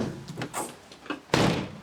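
A pickup truck bed extender slides into the truck bed with a short scrape and clunk, followed by a louder, broader metallic thud and rattle near the end, all close by.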